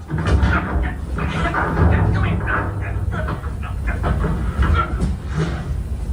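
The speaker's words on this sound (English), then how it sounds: "Oh, Peter, that's not a snake. It's a train" The Walt Disney World Railroad train at Magic Kingdom rumbling along the tracks with rhythmic clattering and thumps, fairly loud and continuous.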